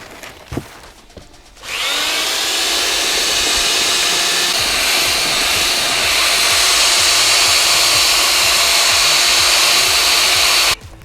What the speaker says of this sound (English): Just move your drill up and down in the bucket.